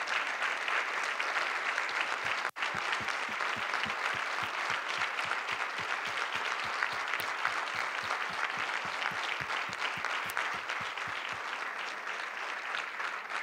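A church congregation applauds steadily and loudly throughout, a dense wash of many hands with a few rhythmic claps picking out a beat, with no talking on top.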